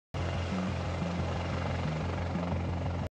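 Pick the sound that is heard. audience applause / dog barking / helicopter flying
helicopter flying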